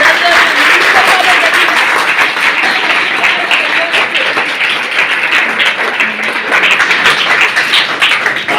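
An audience at a teachers' gathering claps loudly and continuously. The dense, even applause fills the space and fades slightly toward the end.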